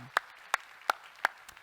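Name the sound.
congregation applause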